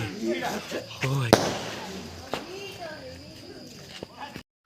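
Rocket fireworks and firecrackers go off during Kali Puja and Diwali celebrations, with several sharp bangs and pops amid people talking nearby.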